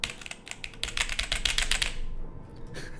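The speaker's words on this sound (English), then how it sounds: "I bet he was hammering that keyboard" Rapid, hard clacking keystrokes on a computer keyboard during a fast-paced game, a dense burst of sharp clicks that thins out into a few scattered taps, close and without speech.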